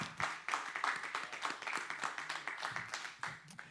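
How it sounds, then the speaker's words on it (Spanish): A church congregation claps together in a steady, fairly close run of hand claps that keeps going without a break. "vamos a darle un aplauso al Padre, al Hijo y al Espíritu Santo."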